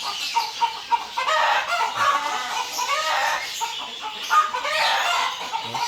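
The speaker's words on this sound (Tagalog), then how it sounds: "Masaba ang mga manok" Chickens cluck continuously in a busy chorus, with occasional louder squawks and bits of crowing.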